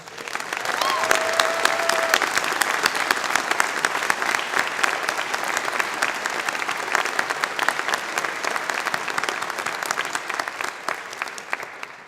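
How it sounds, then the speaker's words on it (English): A large crowd at a university convocation ceremony applauds in a sustained, dense wash of clapping, loud and even for the whole stretch, with a faint voice briefly audible beneath it near the start. "a round of applause"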